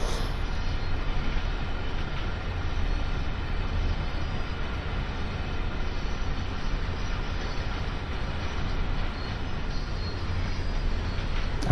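A long freight train in Train Sim World 2 rolls steadily along the Clinchfield Railroad's Greenbriar Branch, a continuous low rumble of wheels and cars that holds an even level throughout with no talk over it.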